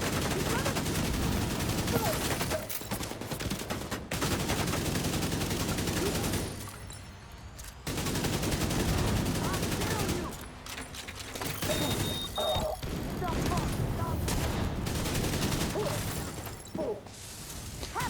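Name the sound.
gunfire shooting in a video game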